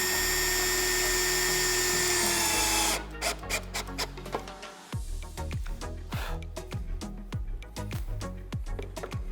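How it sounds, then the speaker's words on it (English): A power drill drives screws into a VertDesk v3 Plus standing desk part, opening with a steady whining buzz, then breaking into rapid clicking ratchety bursts, close and loud with no talk. "we can go ahead and screw that down"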